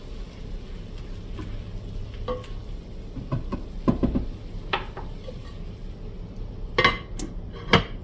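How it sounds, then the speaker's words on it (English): A spoon stirs and scrapes inside a cooking pot, with scattered clinks and knocks of metal, then a sharp lid clatter lands near the end over a faint simmer. Nobody speaks. "I'm gonna stir it one more time, and then I'm gonna put a lid on it."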